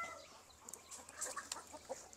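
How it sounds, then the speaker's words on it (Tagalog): Rhode Island Red chickens on a farm cluck softly during feeding, with scattered short calls and faint chirps over low background noise. "Tara, pakain tayo ng mga manok natin."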